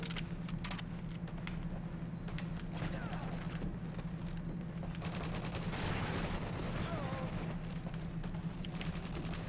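Gunfire rattles from a gun in a Call of Duty: Modern Warfare 3 free-for-all match: scattered sharp bursts and single shots, some near and some distant, over constant battlefield noise.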